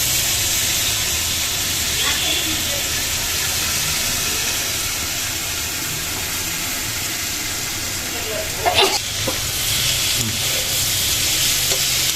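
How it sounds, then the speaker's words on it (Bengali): Finely cut potatoes and dried loitta fish sizzle loudly while being stir-fried, with steady hissing and a few sharp clanks of a spatula against the pan. "আলু আর শুটকিটা এখন একসাথে ভালো করে আমি কষায় নেব।"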